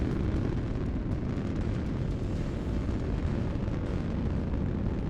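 A bombshell round explodes in a space combat video game, heard as a continuous, dense low rumbling roar of blasts that stays steady and fairly faint throughout, with no voices.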